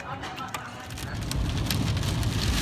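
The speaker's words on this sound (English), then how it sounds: "Here comes the rain, Danny" Heavy rain pours down steadily outside a sushi bar, a dense hiss of drops that grows slightly louder and fuller over the few seconds, with no voices over it.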